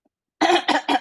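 Three short, loud throat-clearing coughs in quick succession after a brief silence, close and alone with no talk.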